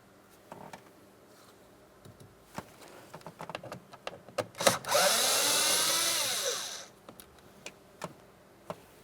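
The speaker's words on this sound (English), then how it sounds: "This trim panel is held in place with several push clips, but it also has 2 bolts on the outside area here, so we're going to be using a T20 to remove each of those." Power driver with a T20 bit whirs loudly in one sustained burst of about two seconds, backing out a bolt from a rear interior door trim panel on a 2008–2016 Chrysler Town & Country. Scattered clicks and taps come before and after.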